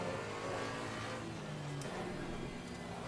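Racing GT4 Porsche engines in the Assetto Corsa Competizione sim, a steady dense roar with revving pitch shifts and a brief higher whine as another car closes in, with no talking.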